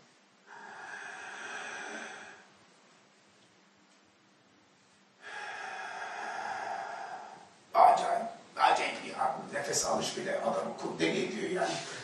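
A voice imitates the slow, gasping breaths of a dying person: two long, rasping drawn-out inhalations separated by a pause, followed by animated talking.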